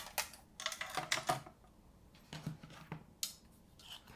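Scissors snip through paper for a small handmade folding album, giving several quick, crisp cuts in short bursts with pauses between them, quiet and close.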